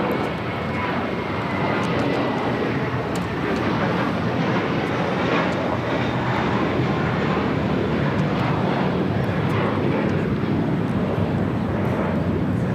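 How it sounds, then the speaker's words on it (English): American Airlines A321 jet taking off at LAX, a loud, sustained engine roar with broadband rumble and wind buffeting that holds steady throughout, with faint voices underneath. "This is American Airlines 2201 taking off to JFK on an A321"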